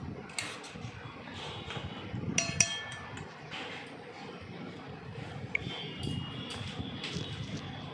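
A spoon stirs watered-down raita in a bowl, giving light clinks and scrapes against the dish over a steady background hiss, with no talking.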